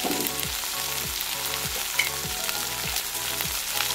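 Moringa flowers and shallots sauté in a hot pan with a steady, close sizzle and crackle, while a utensil scrapes and stirs at regular intervals through the frying.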